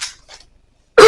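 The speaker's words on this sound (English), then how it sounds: "Excuse my cough." A single sharp cough near the end, close and loud, after a brief faint rustle and near silence.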